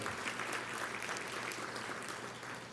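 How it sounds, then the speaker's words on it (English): Audience applause at a symposium lunch, a brief, fairly quiet burst of scattered clapping from a seated crowd in a banquet room. "So give an applause for Linda Kuchigawa as well."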